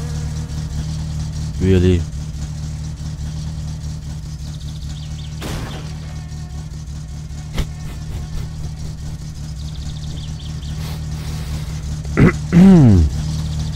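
A car engine idles steadily at low pitch throughout, with a brief higher whine near the start and a rising rev-like burst near the end, in My Summer Car. A voice speaks briefly.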